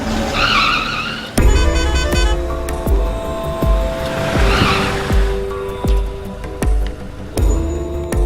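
A car brakes hard with tires skidding and squealing, a sharp screech followed by repeated clattering impacts and shorter squeals, loud and close throughout.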